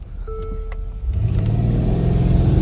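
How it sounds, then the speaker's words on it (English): A 2013 Mercedes-Benz GL63 accelerates hard from inside the cabin, its engine rising in a steady, growing roar with a gear change from first to second, loud and close, with no voices. "it doesn't like that first shift. You got to let off the gas by the time it shifts from first to second."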